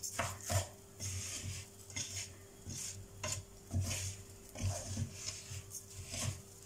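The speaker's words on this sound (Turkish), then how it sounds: "Güzelce bu burada kavrulsun." Ingredients for chicken pilaf sizzle as they roast in a pot, with repeated scraping stirs and soft clinks of the utensil against the metal close by.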